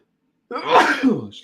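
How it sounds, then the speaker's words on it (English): A single sneeze from a male sports-show host in a studio, abrupt and close, followed by a brief breathy tail with a faint voice fragment at the end. "I'm a sneezer, I think I only sneeze during the show."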